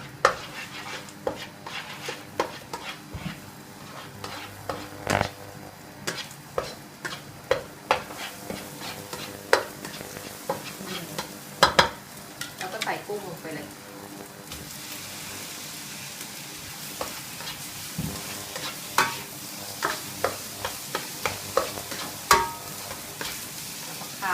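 Egg stir-fries in hot oil in a wok for prawn fried rice, a steady sizzle broken by frequent scraping and clanking of the spatula against the pan, close and continuous with no talking.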